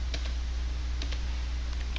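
A few light clicks of keys on a computer keyboard, a short quiet burst of tapping close by over a low steady hum.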